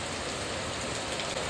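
Steady rain falls outside a hostel, a continuous even hiss of drops on surfaces, close and unbroken, with no voices.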